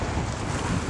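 Steady wind blusters over open water in a natural outdoor setting, a continuous broad rushing noise with no voices.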